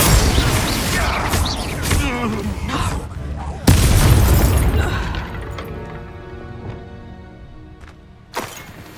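A Confringo explosive spell in the Hogwarts Legacy video game lands as a heavy booming blast mid-clip, followed by a ringing tail that fades, with earlier combat clatter, a later sharp pop and a voice calling out.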